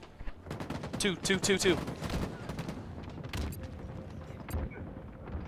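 Rapid gunfire and explosions in a Halo Infinite ranked match, dense overlapping shots in quick bursts with players talking over the action.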